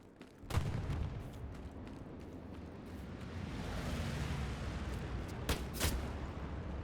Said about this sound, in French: Attention Funky, il y a des tirs d'arty